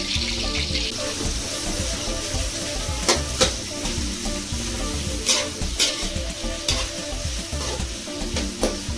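Onions deep fry in hot oil for chicken chukka, giving a loud, close, steady sizzle. Stirring scrapes and clinks come through in intermittent strokes, and there is no talking.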